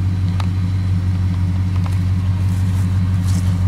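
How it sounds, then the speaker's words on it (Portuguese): A 1974 Dodge Charger LS idles on its original exhaust, giving a steady, loud, deep rumble. The low throb holds evenly throughout with no voices. "Escapamento original, gostoso,"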